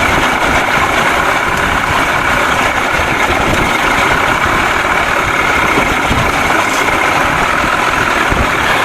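1979 Evinrude 55 hp outboard motor running steadily with a rough, continuous drone that hesitates as it struggles to catch fuel, loud and close throughout.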